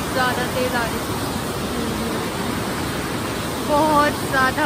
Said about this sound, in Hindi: और नदी देखो कितनी ज़्यादा तेज आ रही है,